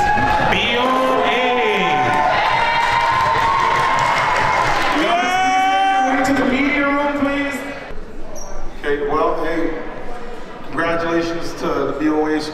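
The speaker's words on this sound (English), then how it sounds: "Round of applause." A crowd cheers and whoops for the BOA youth basketball champions, with loud voices shouting and some clapping mixed in. The noise stays strong for several seconds, then breaks into more scattered calls.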